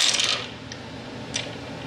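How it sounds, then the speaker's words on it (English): Three dice re-rolled during a savings challenge game, a sharp clattering burst at the start followed by a couple of faint, brief clicks as they settle. "So we got to re-roll 3 dice."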